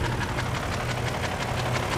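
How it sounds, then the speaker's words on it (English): Idling BMW V8 in a 2004 Range Rover with a slight exhaust leak, a steady low rumble with a faint rhythmic ticking pulse running through it, close and continuous. "There's a little bit of noise in there. I think there's a slight exhaust leak"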